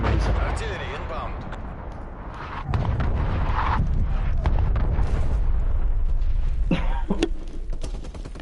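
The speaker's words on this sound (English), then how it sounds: "Did you guys just hear those sound effects from that airstrike?" An artillery airstrike in Call of Duty Black Ops Cold War sets off dense, rumbling explosions and crackling blasts, loud and continuous for several seconds with a person talking over the barrage.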